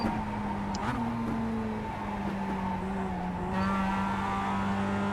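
Mazda MX-5 Cup race car in iRacing on the Charlotte Motor Speedway Roval, its engine a steady, close droning whine that holds and gradually shifts pitch as the throttle is worked, with no talk over it.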